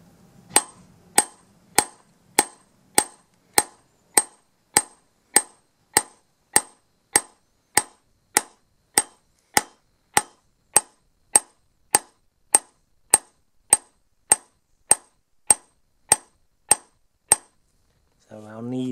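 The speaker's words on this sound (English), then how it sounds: "we're doing the pull-in hammer action that I described" A hammer peens a blade in a long, even series of about two dozen sharp metallic strikes, one roughly every 0.7 seconds, close and crisp with quiet gaps between them; a voice comes in briefly at the very end.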